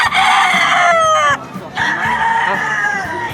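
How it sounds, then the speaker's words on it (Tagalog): Fighting roosters at a pet market crow loudly and close by, with one long crow followed by another and clucking beneath. "Dito, mga panabong na manok naman."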